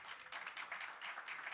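A church congregation claps together in a steady rhythmic pattern of many hands, faint and distant, filling the short stretch without a break.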